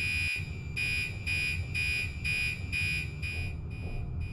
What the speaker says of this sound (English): the more rapidly pulsing tone from the horns inside the room